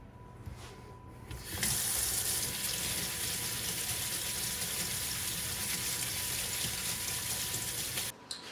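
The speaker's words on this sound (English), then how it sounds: "the grown-ups are going to wash their potatoes" Potatoes for restaurant-style baked potatoes are washed under a kitchen tap, a steady rush of running water that starts after a quiet opening second and keeps going until it stops abruptly near the end.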